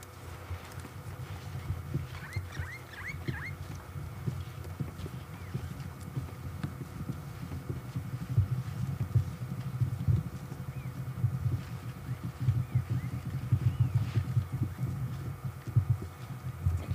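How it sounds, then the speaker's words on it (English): Large animals walk past a parked safari vehicle at dusk, giving soft, heavy, irregular footfalls over a low steady hum, faint at first and growing slightly closer. "Hear their footsteps as they go past us."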